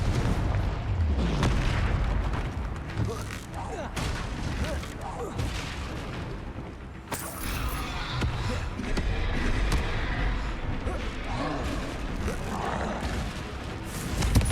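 Repeated spell blasts, Bombarda and Confringo among them, burst during a troll fight in Hogwarts Legacy, a dense run of booming impacts and explosions over busy battle noise, with a voice calling spell names across the scene.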